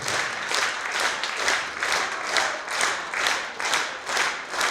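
Concert audience applause in a hall, dense clapping that swells and dips in a regular pulsing rhythm, loud and continuous throughout.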